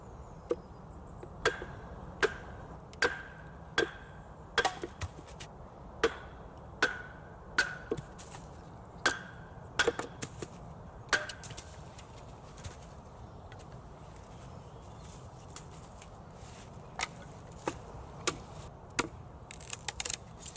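Sharp blade chops into a sweet chestnut sapling in the woods, roughing out a spatula: a steady series of crisp, fairly close knocks, about one every second or so, fading to lighter, sparser taps later on.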